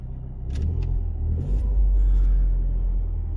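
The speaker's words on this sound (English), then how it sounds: "It's moving. All brakes sound a bit rusty." A damaged Peugeot 208 GTI pulls away with a deep low rumble, a few brief scraping squeals from brakes in rusty condition breaking through near the start and middle, fairly loud and close.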